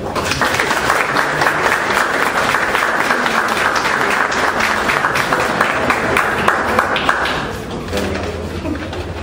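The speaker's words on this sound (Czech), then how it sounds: "Požádám o potlesk pro Rustavy a Rustavy" An audience at a 2014 folklore festival welcome for sponsors gives loud, sustained applause for the visiting dance group, dense clapping close by that eases slightly toward the end.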